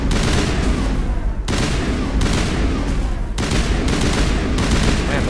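Loud, sustained automatic gunfire from Mass Effect combat, rattling almost continuously in long volleys with only brief gaps between bursts.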